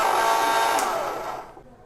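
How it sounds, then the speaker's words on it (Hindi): A kitchen mixer grinder runs with carom seeds (ajwain), a close steady whirring roar that winds down and fades out over its final half second. "उसको भी आपने मिक्सी में पीस लेना।"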